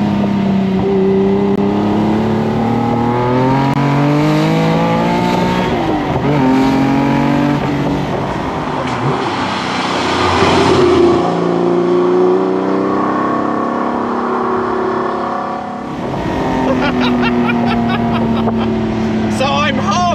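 A loud TVR Tuscan sports car engine revs up and down repeatedly, rising and falling in pitch, with a brief surge in the middle and voices underneath.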